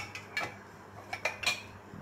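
A cake tin is set onto a ring inside a pressure cooker, giving a few soft metallic clinks and taps close by in a quiet kitchen.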